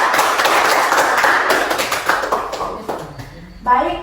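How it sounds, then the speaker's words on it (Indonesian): Classroom applause for student group 4, a dense wash of many hands clapping at once for about three seconds before it fades out and a voice begins speaking. "berikan aplaus untuk teman-teman kelompok 4"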